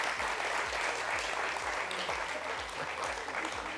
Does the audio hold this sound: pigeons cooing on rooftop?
no